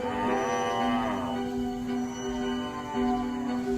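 An adult cow lets out a long, loud, close moo that wavers in pitch, followed by a second sustained lowing call, heard alone without talk.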